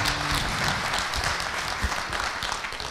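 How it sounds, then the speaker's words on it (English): A town meeting audience claps in a brief burst of applause that fills the room evenly, a dense spread of hand claps with no talk over it. "Let's try not to applaud,"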